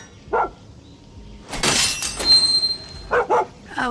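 Dog barking in the video game Far Cry 6, a few short barks heard close amid a burst of shattering glass and a high ringing tone.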